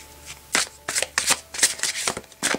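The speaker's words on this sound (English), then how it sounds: "So let me go ahead and shuffle this up really well." A thick tarot card deck shuffled by hand: several quick riffling bursts of flapping cards in an uneven rhythm, close and crisp, with no talk.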